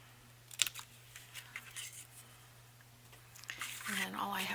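Scissors snip through paper ephemera at close range in a handful of sharp, uneven cuts, followed by a louder rustle of paper being handled near the end.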